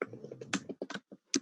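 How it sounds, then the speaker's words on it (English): Someone typing on a computer keyboard nearby, a quick irregular run of soft clicks and taps with brief gaps, fairly quiet. "Somebody is typing."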